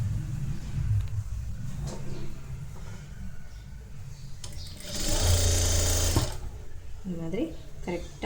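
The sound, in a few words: sewing machine stitching a blouse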